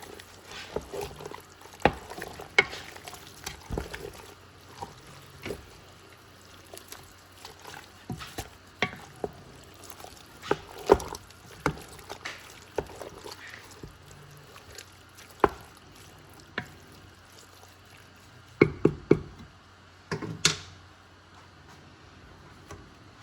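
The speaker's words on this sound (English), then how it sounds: "Alright, I've added it all in here. And I'm going to mix it." Chili verde is stirred in a pot, a long run of irregular wet scrapes, clacks and sloshing knocks, close and moderately loud, with no speech.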